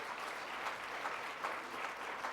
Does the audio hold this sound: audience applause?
yes